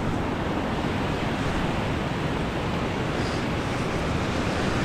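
Continuous broadband rush of ocean waves on a shore, loud and unbroken, mixed with wind noise across the microphone and no voices.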